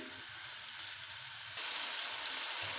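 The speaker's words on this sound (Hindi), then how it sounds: "इसको हम 2 से 3 मिनट अच्छी तरह फ्राई करेंगे टमाटर को और हरी मिर्च को" Chopped tomatoes and green chilies fry in a pan of masala for chicken yakhni pulao, giving a soft, continuous sizzle that grows slightly brighter partway through.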